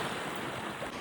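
Ocean surf washes steadily at Uttan beach on a festival day, a continuous broadband roar of breaking waves with some wind, heard close and fairly loud with no talking.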